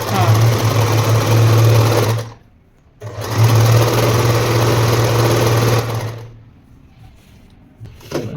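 An Usha stitching machine runs close and loud in two steady bursts of rapid whirring stitching on cloth, separated by short pauses, with light handling noises after.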